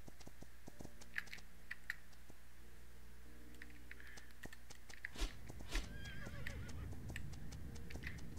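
Horse whinnying in the video game Ropin' Ranch Horse Life, a loud neigh breaking out midway after quiet ambient sounds and keyboard clicks, followed by shuffling hoof sounds, with a little talk in the background.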